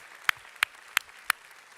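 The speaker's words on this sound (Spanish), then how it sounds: "¿Cuántos le dan un aplauso al Señor? Un aplauso al Señor." Four sharp, evenly spaced claps during a Spanish-language church worship service, close and distinct with quiet gaps between them, no voices present.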